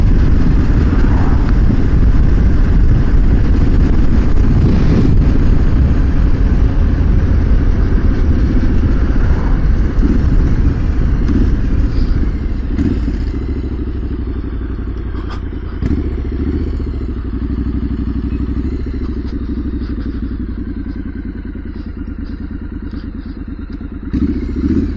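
Motorcycle fitted with a custom twin-pipe exhaust idles and revs nearby, a loud, deep, throbbing rumble with occasional mechanical clatter and thumps, holding steady for about twenty-five seconds.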